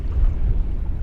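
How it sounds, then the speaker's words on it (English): Wind buffeting a fishing boat out on clear water, a brief, low, rushing roar close to the microphone with no other sounds. "It's windy out here. The wind's picked up."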